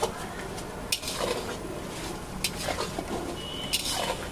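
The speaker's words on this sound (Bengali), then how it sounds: "এবার এই বাটা যে সমস্ত মশলাগুলো সব একসঙ্গে ভালোভাবে নাড়াচাড়া করছে" Spice paste being stirred and fried in a large pot for a prawn malai curry cooked for a crowd: soft sizzling under scraping stirs, with a few sharp clinks of a spoon against the metal pot.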